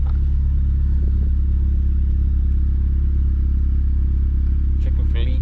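A turbocharged Honda Civic's exhaust idling while being checked for leaks, a loud, steady low rumble with a constant throb, holding even throughout with slight clatter near the end.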